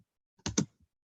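A number typed on a computer keyboard into an MS Excel sheet, two quick close keystrokes followed by a faint third tap, in a quiet room.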